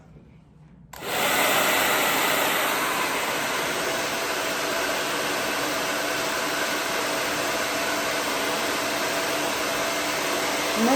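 A hair dryer starts up after a moment of quiet and then runs loud and steady in a salon while hair is dried, a constant close whoosh with no talking.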